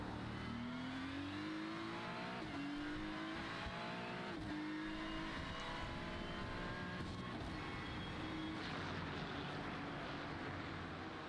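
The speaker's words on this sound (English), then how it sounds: "Brian up 3 positions from 11th to 8th right now in his Ferrari 296 GT3 machine." Ferrari 296 GT3 race car engine in a sim racing game at Jerez, loud and continuous, with rising pitch sweeps through upshifts as it accelerates, plus tire noise, with no talking.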